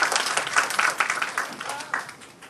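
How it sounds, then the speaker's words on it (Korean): An audience applauding as a university professor is welcomed to speak at a tutoring program event, a brisk, close burst of clapping with uneven sharp hand strikes and some voices mixed in. "큰 박수로 맞이해주시기 바랍니다."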